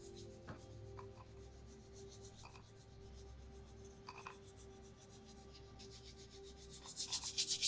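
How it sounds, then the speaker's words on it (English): A soft, continuous scrubbing rub with a dry, rasping texture carries steadily throughout at low level, alone, with a few brief brushing swells near the end. "Scrubbing away"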